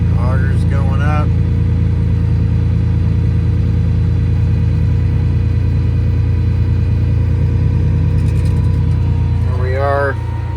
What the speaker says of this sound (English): Auger's going up.